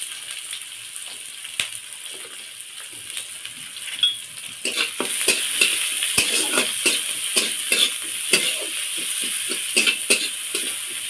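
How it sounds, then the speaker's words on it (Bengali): Mustard seeds, curry leaves, chopped onion and green chilli sizzle in hot oil, a steady bright frying hiss that swells midway, with repeated scraping stirs and light clinks of a spatula against the pan. "পেঁয়াজটা কিছুক্ষণ ভেজে নেব"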